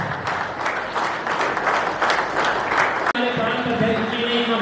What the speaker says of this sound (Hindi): उत्साह से ताली बजाइए।